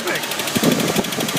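A Ford XA Bird car engine, first started in decades after sitting unused since 1988, runs with a rough, pulsing idle, while excited voices talk and shout over it.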